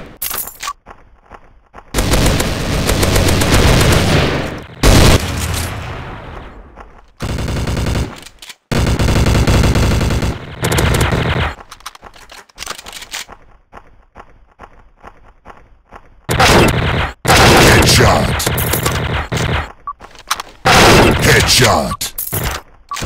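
A TMP submachine gun fires in the video game Special Ops, in loud, rapid automatic bursts that are broken by short pauses, with footsteps and game mechanism sounds in the gaps.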